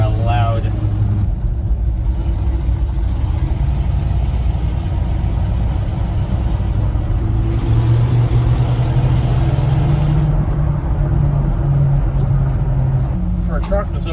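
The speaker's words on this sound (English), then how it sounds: "you can hear the bias plies" An old Ford F-100 pickup, over 40 years old, driving at about 25 mph on loud bias-ply tires, giving a continuous road and engine drone with a shift in pitch partway through and talk over it.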